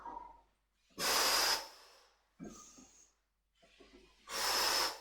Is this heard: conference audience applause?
no